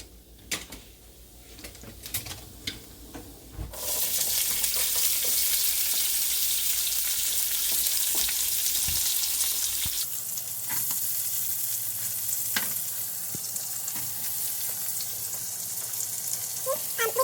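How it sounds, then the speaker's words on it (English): Seeds fry in a pan for a Durban-style mutton curry, then diced onion goes in. A loud, steady sizzle builds and holds, and its tone shifts midway as the onion joins the hot oil. No one speaks. "Just going to let the seeds fry for 1 or 2 minutes, and then I'll go in with the onion."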